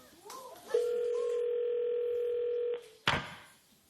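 A telephone dial tone holds steadily for about two seconds, then a click and a brief burst, as a television game show calls a contestant to spin a big prize wheel; faint studio background sits underneath.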